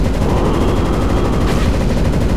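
Continuous, dense gunfire fills the whole stretch at a loud, steady level, a rapid rattle with no pauses.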